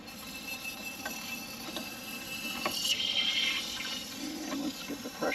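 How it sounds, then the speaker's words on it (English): Water running from a hose into an RV holding tank, a faint steady gush and trickle with occasional clicks and clunks, low in level. "So let's turn the water on here."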